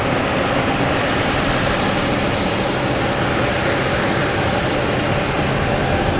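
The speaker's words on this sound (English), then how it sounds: "Here is a Spirit Airlines A320 coming in from Detroit." A Spirit Airlines Airbus A320 comes in to land at Boston Logan Airport, giving off a continuous, even jet roar that stays loud and steady throughout, with no voices.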